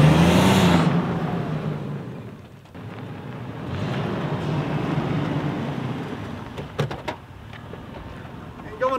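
A Ferrari 488 rolls along on idle with no throttle, a steady low engine drone blended with broadband wind and road rush, briefly louder at the start, with a few sharp clicks near the end.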